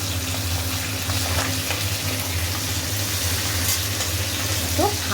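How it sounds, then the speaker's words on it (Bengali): Fish frying in hot oil: a steady sizzle with continuous crackling hiss, no talking, close and fairly loud throughout. "মাছ ভাজতে দিয়ে দিয়েছি, আর 2টো মাছ আছে, এগুলো ভাজা হোক।"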